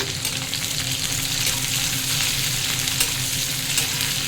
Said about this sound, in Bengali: একটু ভেজে নিই, কাঁচা আছে, তারপর লাল করে দেবো পেঁয়াজ।